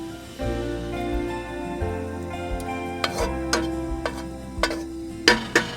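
Onion and sausage frying in coconut oil in a pan inside a small van on a rainy day, a soft continuous sizzle with scattered clinks and scrapes of stirring under a steady humming tone.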